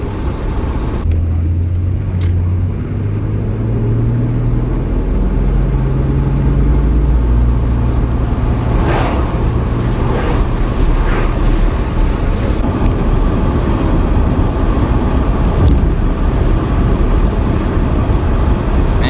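A Toyota MKIII Supra Turbo cruises steadily along a back road, its low engine drone and tire roar continuous and close, with wind rushing past and a few faint clicks over the top.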